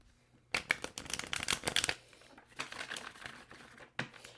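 Tarot cards shuffled and riffled in quick bursts, loud and crisp at first, then softer rustling and a final snap as one more card is drawn, with no talking.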